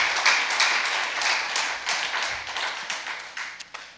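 Audience applause at a lecture hall gathering, a spread of hand claps rising and falling over four seconds, fairly close and moderately loud with no talking.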